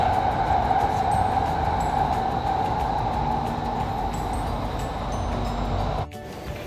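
A Doha Metro train rolls along in a steady, loud rumble heard from inside the car, then drops to a quieter level near the end.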